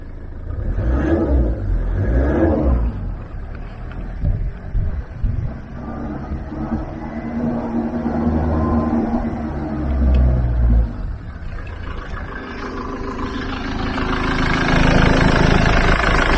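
A Ford Transit MK7 van engine idles steadily nearby, then revs up and climbs in pitch and loudness toward the end.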